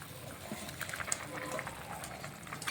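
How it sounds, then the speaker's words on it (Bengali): A pot of vegetable juice at a rolling boil, its soft, steady bubbling and gurgling heard close, while a voice talks faintly underneath. "এই যে জুসটা এই যে ফুটে গেছে"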